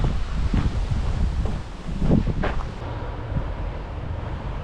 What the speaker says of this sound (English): it's a breezy day. It's been a breezy week.